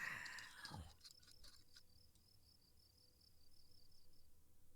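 A faint, steady series of high cricket chirps repeats in a quiet ambience after a brief rustling noise at the start, in the video game Mon Bazou.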